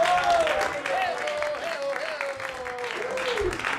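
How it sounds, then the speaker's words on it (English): Audience applause for comedian Matt Drufke at a comedy show, steady dense clapping that fills the whole stretch, with a host's voice talking over it. "Another big round of applause for Matt"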